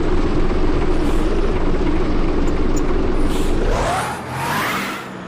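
Bus engine in a bus driving video game, a loud steady drone that rises in pitch as it revs near the end, then drops and fades, with no talking.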